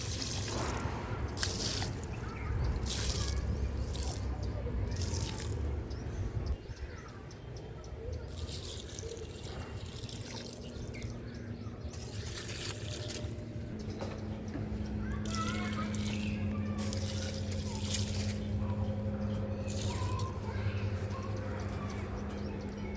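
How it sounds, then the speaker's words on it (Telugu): Water from a half bucket mixed with organic fertilizer is poured onto rose and tomato plants in a home garden, giving a continuous splashing, trickling rush with people talking over it. "ఈ రోజ్ చెట్టుకి పోస్తున్నాను"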